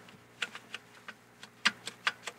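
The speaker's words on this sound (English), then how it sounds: "That clicking that you hear, that's me sliding it up and down, making sure that it's on the stops" A large format film negative slides up and down inside a developing drum holder, giving about a dozen light, close plastic clicks in an irregular rhythm as it seats on the stops, with no talking.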